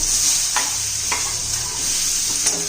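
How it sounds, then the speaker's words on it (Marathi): Onion roasting in a pan for a dry chicken curry, a loud steady hiss of frying with a few sharp stirring scrapes. "छान मोठा कवर येईपर्यंत आपल्याला कांदा भाजायचा आहे"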